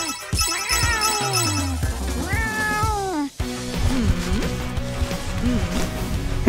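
A cat meows repeatedly in a cartoon-style sequence, with several distinct rising and falling meows, some drawn out and caterwaul-like, fairly loud and close, over busy background sounds with no speech.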